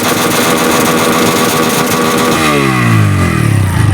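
Bajaj Pulser N125, a 125 cc motorcycle, running steadily after a self start, a loud close engine hum that rises in pitch as it revs near the end, with no talking.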